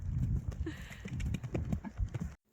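Hooves of a horse being jumped under saddle thud in an irregular clip-clop across most of the clip, moderately close, with some low background noise, then cut off abruptly near the end.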